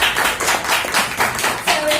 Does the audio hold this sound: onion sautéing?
no